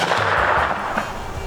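A muzzleloader-style rifle is fired at a target during a deer hunt, heard as a loud, broad blast with a rolling, sustained boom that decays slowly outdoors.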